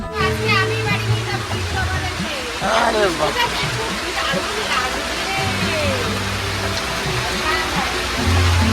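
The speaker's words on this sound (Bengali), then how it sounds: "এতক্ষণ পরে বৃষ্টিটা আরম্ভ হলো" Steady rain pours onto a boat in the Sundarbans as a broad, constant wash of hiss and patter, with people talking and chattering nearby throughout.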